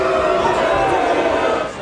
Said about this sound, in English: The protesters were met with boos from the crowd